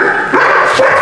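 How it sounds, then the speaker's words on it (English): Dogs bark inside a kennel, loud and close, a few sharp overlapping barks and yips over a second. "you can hear all the dogs barking"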